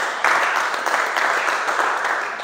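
A church congregation applauding during a Sunday service, continuous loud clapping from many hands that starts abruptly and holds steady throughout.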